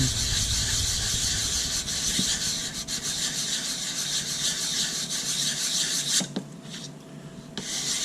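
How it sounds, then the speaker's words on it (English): A composite fin is lightly sanded by hand, a close, continuous rasping rub with steady strokes that eases briefly near the end before resuming. "And we'll just do a light sand."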